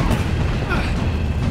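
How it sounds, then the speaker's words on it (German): A dull explosion booms in a Red Dead Redemption 2 battle scene, a short low-heavy rumble over constant game noise. "Da bin ich fast durch die Explosion"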